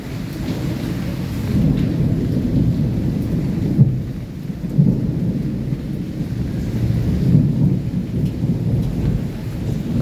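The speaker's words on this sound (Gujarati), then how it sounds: "અત્યારે વાદળનો અવાજ જ એટલો સતત કન્ટિન્યુટીમાં આવી રહ્યો છે." Heavy rain pours steadily over Rajkot while deep thunder rolls almost continuously during a lightning storm, with louder rumbling peaks near the middle and end.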